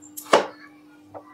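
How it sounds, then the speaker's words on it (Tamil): A knife cuts large onions into halves on a board, two or three sharp, close chops, the middle one loudest. "வெங்காயத்தை வெட்டியாச்சு."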